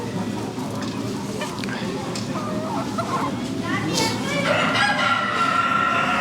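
Chabo bantam chickens crow at a poultry and rabbit exhibition, a rooster's call rising near the end over a busy hall of clucking birds and people talking.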